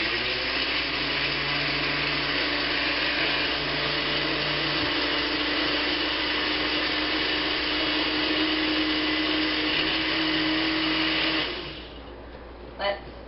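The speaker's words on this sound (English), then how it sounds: "mix in the blender for about 1 minute" Blender mixing a fruity slushie with ice, a loud steady whir for about eleven seconds before cutting off, followed by a couple of light knocks.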